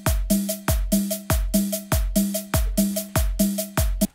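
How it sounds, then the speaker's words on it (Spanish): A programmed electronic ride cymbal and hi-hat pattern for a cumbia pop beat in FL Studio plays alone, loud and close, looping sharp metallic strikes and bright ticks in a steady, bouncy rhythm. "Y se le agrega el hi-hat que teníamos acá arriba."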